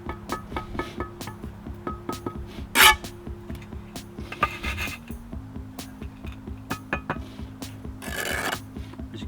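A bricklayer's trowel scrapes wet mortar off a brick, making short close rasps and rubs with a few sharper clinks over a steady low hum in the background.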